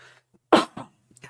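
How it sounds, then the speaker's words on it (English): A single sharp, close cough from a man with a lingering nagging cough, followed by a softer second cough and a brief throat sound in a quiet room. "Still got this little nagging cough with me."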